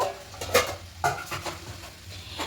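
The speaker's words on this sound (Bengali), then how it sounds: "আবারও ভালো করে কষিয়ে নেব আবার একটু নেড়ে দিলাম" Chicken kosha stirred in a pan without oil, a few distinct spoon scrapes and clinks against the pan over a faint low sizzle, close and moderately loud, no speech.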